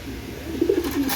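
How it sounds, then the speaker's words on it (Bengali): Pigeons kept in a loft coo in a few soft, low murmurs near the end of a short stretch of steady background hiss. "দেখেন কবুতরগুলো দেখেন, আমি দেখাইতেছি।"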